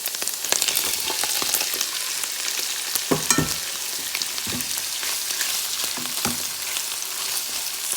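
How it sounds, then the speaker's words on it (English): Shrimp hit a hot pan of butter and garlic and sizzle loudly and continuously, with crackling pops and a few stirring scrapes scattered across the frying hiss. "I'm gonna add in the shrimp."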